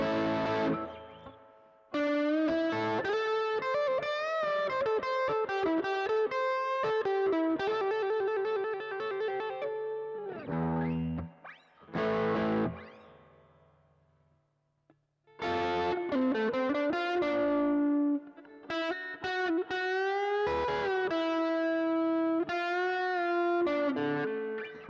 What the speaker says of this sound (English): let you hear what the neck pickup sounds like